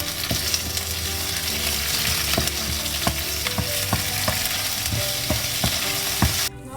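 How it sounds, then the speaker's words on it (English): Green chilies and ginger garlic paste sauté in a pan for egg biryani, making a steady close sizzle. Regular spatula taps and scrapes run through it, and the sound cuts off abruptly at the end. "Now add green chilies and ginger garlic paste and saute it for a minute."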